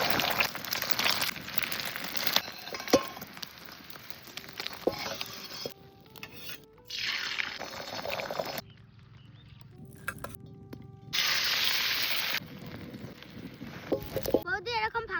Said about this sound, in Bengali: কড়াইতে দিয়ে দিচ্ছি সর্ষের তেল।